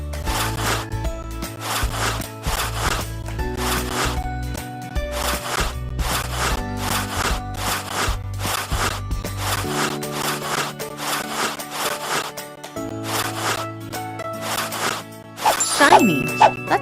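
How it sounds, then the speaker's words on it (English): Rubbing and scrubbing at a messy fridge in a kids' cleaning video game, heard as continuous rasping scrubs over bright game chimes and tinkles, steady and close, with a jingling flourish near the end. "And now some serious rubbing."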